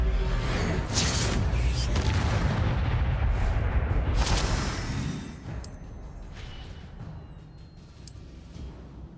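An Incendio fire spell is cast repeatedly in Hogwarts Legacy, loud booming whooshes of flame that roar for several seconds, then fade into quieter crackling bursts.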